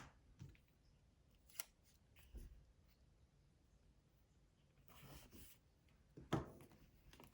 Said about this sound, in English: I'm going to have to cut that weird little hanging thing off